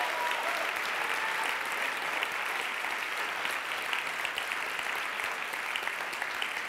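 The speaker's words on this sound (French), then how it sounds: "Merci pour vos applaudissements" Sustained applause from an audience after a short thesis presentation at a university competition final, dense and steady throughout with no voices over it.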